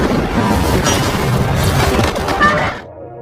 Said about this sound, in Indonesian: sebuah ledakan besar yang diakibatkan oleh pertempuran di bawah terjadi